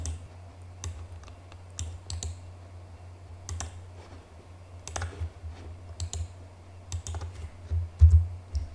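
Sparse clicks of typing on a computer keyboard while configuring a network device, irregular single keystrokes and short bursts with pauses between them, close and fairly quiet over a low steady hum.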